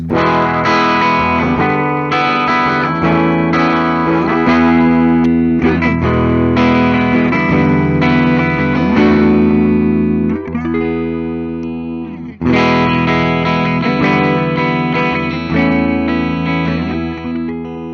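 Heavily distorted electric guitar, a 2002 Gibson VooDoo Explorer with hot pickups, played with hard, aggressive picking, chords ringing out loud and saturated with a short break before resuming.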